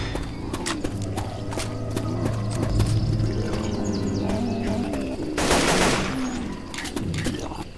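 Rapid clip-clop hoofbeats and clattering impacts from a horse in the zombie shooter game Left 4 Dead 2, mixed with bursts of gunfire and a loud noisy surge midway, with a steady low hum underneath.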